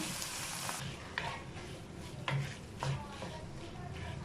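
Chicken chilli keema frying in a pan: a low steady sizzle with occasional scraping stirs, soft and close, without talk.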